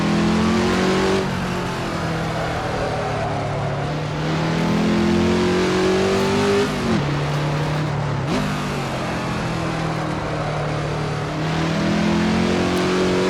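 Continuous race car engine note in a racing video game, a Ferrari 330 P4 or Ford GT40 at Laguna Seca, sounding like a 4-cylinder, revving up and down, with pitch climbing and dipping through gear changes, loud and close with no talk.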